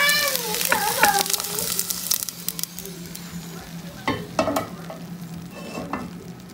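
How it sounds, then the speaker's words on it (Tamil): Okra sautés in an oil-filled pan while being stirred, giving a close sizzle with scraping, clattering utensil strokes that come and go in uneven bursts. "இப்போ இந்த வெண்டைக்காய் வதங்கிக்கிது."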